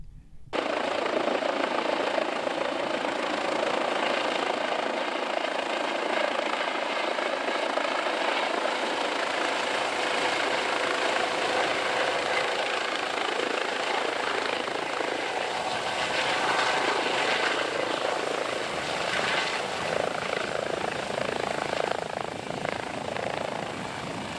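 A medical helicopter lands at a police equipment showcase, its rotor and engine making a loud, continuous whirring roar that holds steady and close the whole time, with no talk.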